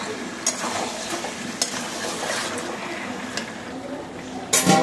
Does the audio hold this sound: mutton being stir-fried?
yes